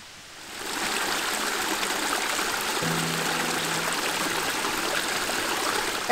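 Waterfall and stream water rushing along a trail off the Natchez Trace, a loud steady broadband roar that swells in after a quiet start and holds constant, with a faint low hum joining midway.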